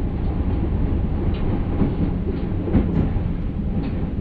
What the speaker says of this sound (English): The train slows down automatically